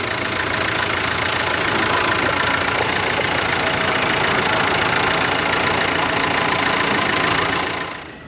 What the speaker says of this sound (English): So this is the new HX140. This is Hyundai's machine.